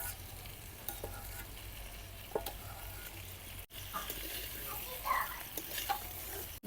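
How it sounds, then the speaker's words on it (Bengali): Fish roe, potatoes and spices fry in oil while being stirred, giving a steady close sizzle with scraping stirs and a brief break midway; no voices. "ডিমটা দিয়ে আর অল্প সময় ভেজে নিলাম।"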